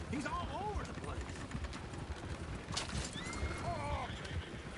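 Horses in Red Dead Redemption II neigh and whinny in several rising, shaky calls, with hoof clatter and busy game noise underneath throughout.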